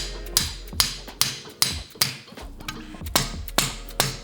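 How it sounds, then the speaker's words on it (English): Repeated sharp metallic hammer blows driving a bushing into a billet sleeve, about ten strikes at a fairly steady rhythm, close and loud with short ringing decays. "now he's trying to hammer them back together"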